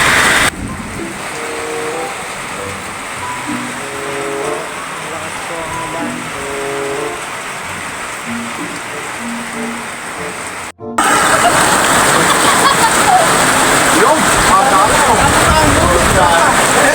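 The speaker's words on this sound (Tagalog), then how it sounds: "Sobrang lakas sa ulan." Heavy rain pours steadily and loudly throughout, a dense broadband wash that briefly cuts out near the eleven-second mark and returns even stronger, with faint voices and boat noise underneath at times.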